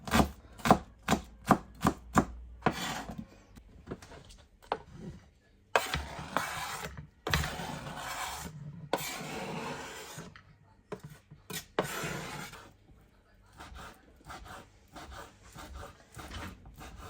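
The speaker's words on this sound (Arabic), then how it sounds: "يلا خلي نثرم البصل" Onion being finely minced with a knife on a board for Iraqi kibbeh: a quick run of sharp, close chopping taps at first, then scraping, rubbing strokes and scattered cuts at varying pace, with no talk.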